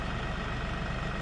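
A tractor engine idles nearby while a portable sawmill is being set up, a steady low diesel throb with an even pulsing rhythm and no voices.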